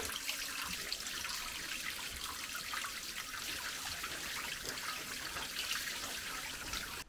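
Spring water trickles and splashes steadily at a cave monastery set in rock, a continuous close hiss with no breaks and no voices.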